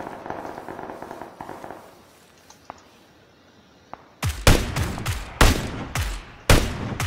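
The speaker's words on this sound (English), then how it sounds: "I'm getting shot at. No idea by who. I'm firing past you." Gunfire in PlayerUnknown's Battlegrounds: after a quieter stretch of faint game ambience and a couple of distant pops, a rapid burst of loud close shots rings out, several in quick succession with short echoing tails.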